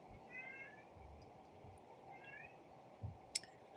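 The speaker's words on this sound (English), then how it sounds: "I hear my other cat crying in the background." A house cat cries out with a few faint, drawn-out meows in the background, spaced apart over steady low room noise, with a couple of small clicks near the end.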